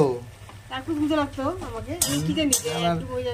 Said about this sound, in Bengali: ও বাবা, এ তো জলে টকবক করছে